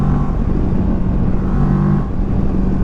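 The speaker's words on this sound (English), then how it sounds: "Parallel twin sounds delicious." A 2019 Kawasaki Versys 650 LT parallel-twin engine with stock exhaust rumbles continuously up close, a thick, steady drone with a slight swell partway through.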